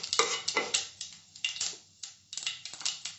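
Mustard seeds stirred in white oil in a pan over medium heat, a run of quick, light scraping and clicking strokes in an irregular rhythm, close and fairly quiet.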